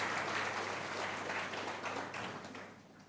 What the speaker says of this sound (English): I want to give the organizers of the event a good round of applause.